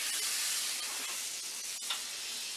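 Butter sizzles in a hot cast iron pan as a steady, close hiss that stays loud and even throughout, with no talking.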